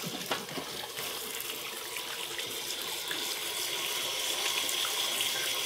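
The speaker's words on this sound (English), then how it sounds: "let's wash them up now" A tap runs in a steady, close hiss of splashing water while freshly caught pompano are washed under it, continuous and with no talk.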